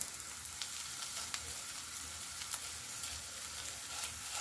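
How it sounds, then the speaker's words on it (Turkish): Onions frying in a pan with a spoonful of tomato paste added, a steady close sizzle with faint crackles and stirring scrapes throughout, no voices. "Soğanımız biraz kavrulduktan sonra içerisine bir yemek kaşığı salça"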